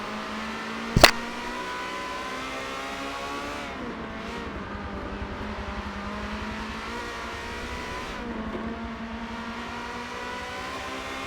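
Ferrari 360 Challenge Stradale race cars racing at Mugello: a low, steady engine drone with slow rising and falling pitch sweeps as cars pass, one sharp click early on, fairly faint and without talk.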